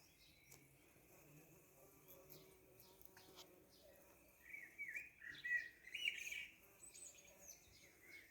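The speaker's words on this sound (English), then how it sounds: "You can hear the buzzing." Several bees buzz faintly around a garden patch outdoors, a soft, wavering drone near and then away, with bird chirps and insect calls around it.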